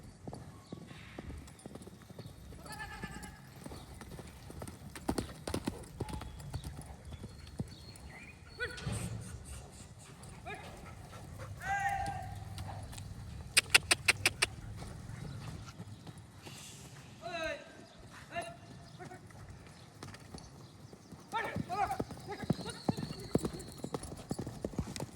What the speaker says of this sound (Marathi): कधी कधी आपल्या घोड्यांना पण असं मोकळं सोडलं पाहिजे रायडिंग न करता.